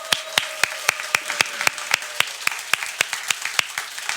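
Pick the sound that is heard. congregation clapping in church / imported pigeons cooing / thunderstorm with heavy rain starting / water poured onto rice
congregation clapping in church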